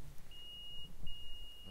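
A metal detector used for treasure hunting gives thin electronic beeps, two steady tones over faint background rumble, quiet and close.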